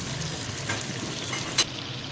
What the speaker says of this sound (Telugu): ఒక్క 2 minutes ఉంచుతాం పచ్చిమిర్చి కొంచెం ఫ్రై అయ్యే వరకు